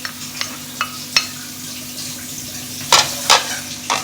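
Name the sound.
finely chopped onion frying in a pan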